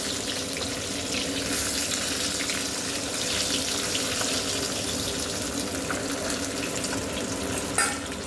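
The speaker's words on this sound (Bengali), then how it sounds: "কড়া কড়া করে মাছটাকে আমি ভাজা করব" Fish frying crisp in hot oil in a pan makes a dense, even, hissing sizzle that runs steadily throughout, close and continuous with no voices.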